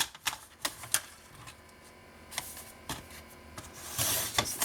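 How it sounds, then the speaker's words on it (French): Scissors cut off excess paper while making a scrapbook pop-up album, giving a series of short, crisp snips and clicks at irregular intervals, close and quiet with no speech. "Et je vais couper l'excédent."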